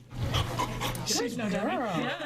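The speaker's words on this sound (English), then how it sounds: "a therapy dog just moved in" A therapy dog at a high school pants steadily in quick breaths, close by, while people talk over it throughout.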